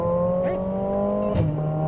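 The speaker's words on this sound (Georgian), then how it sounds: "ზუსტად ეგ ხმა აქვს, როდესაც სიჩქარეში ვთავ ამ მანქანას." A fast four-door car's engine hums steadily at close range with a tonal whine, briefly rising in pitch as it accelerates, loud and without speech.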